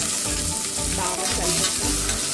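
Ginger garlic paste, onions, green chillies and curry leaves fry in a pan with a loud, constant sizzle, broken up by rhythmic scraping and stirring close by, and no one speaking.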